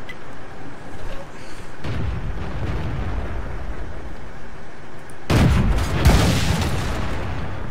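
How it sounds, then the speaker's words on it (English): In the World of Tanks video game, a high explosive shell bursts with a loud, sudden boom after a stretch of rumbling battle noise, leaving a brief rough roar behind it. "Somebody shot high explosive at me."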